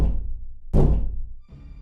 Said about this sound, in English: Like someone stomping their foot twice very loud.